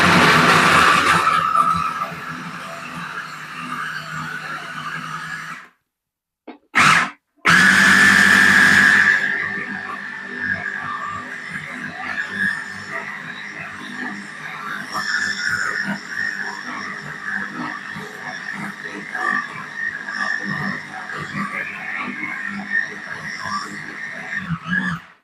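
Vacuum sealer pulling air from and sealing bags of garlic, a loud continuous whirring hiss that stops briefly, returns in short bursts, then settles into a long steady drone.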